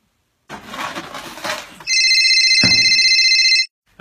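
A telephone rings loudly and steadily in a single sustained burst after a few seconds of rustling, as a call is placed home, then cuts off abruptly.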